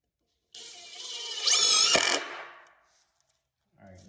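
Klein Tools impact driver sinking a drywall screw, a close whir that turns into a short rapid clattering hammer burst before stopping, followed by silence and a faint sound at the end.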